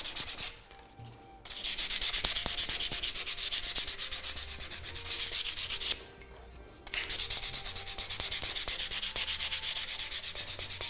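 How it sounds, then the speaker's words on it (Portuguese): Sandpaper rubbed back and forth over an aged, painted wooden piece in Bauernmalerei style, a close, rapid, rhythmic scraping that runs in long bursts broken by two short pauses. "Então toda a peça, quando ela é envelhecida, ela recebe o produto e é lixada."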